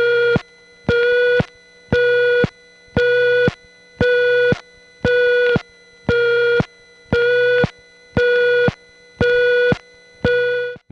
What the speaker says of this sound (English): in this particular exchange, the tone is changing pitch on a regular pattern